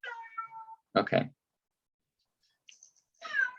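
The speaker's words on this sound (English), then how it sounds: "Excuse my cat, he's being a little whiny right now." A whiny pet cat meows in several drawn-out, complaining cries with gaps between, close by in a quiet room, with a short spoken word among them.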